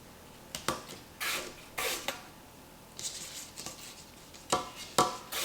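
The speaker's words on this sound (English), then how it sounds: "And then just like rough little chops like that." Apples sliced with a knife on a cutting board for apple crisp: a handful of sharp, uneven chops and taps, close and fairly quiet, with short pauses between strokes.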